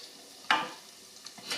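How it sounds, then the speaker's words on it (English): Soft hissing and crackling of doughnuts frying in hot oil, with a few sharper sputters popping up over a quiet, steady sizzle. "When they stop sizzling, just flip them over."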